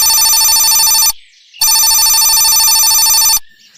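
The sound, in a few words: telephone ringing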